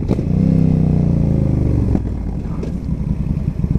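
A Yamaha XVS 1300 Stryker cruiser gives a loud, close, low engine rumble while being ridden at low revs, with a steady throbbing pulse that eases slightly partway through and continues without talk.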